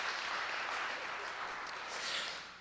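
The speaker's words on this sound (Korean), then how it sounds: "자, 박수 한번 주시기 바랍니다." A church congregation claps steadily for a few seconds, a dense, moderately quiet wash of applause heard from a distance.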